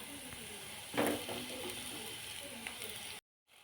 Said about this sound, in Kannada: ಬೆಲ್ಲ ಚೆನ್ನಾಗಿ ಕರಗುವವರೆಗೆ ಫ್ರೈ ಮಾಡ್ಕೊಳ್ಳಿ